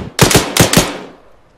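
Four rapid, sharp bursts of automatic rifle fire from an RPK light machine gun in the military shooter Arma 3, loud and close, with a long echoing tail fading into the distance.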